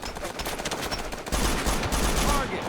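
Gunfire in the military shooter game Operation Flashpoint: Dragon Rising: a rapid run of crackling shots and bursts, moderately loud, continuing throughout with a denser, heavier stretch in the second half.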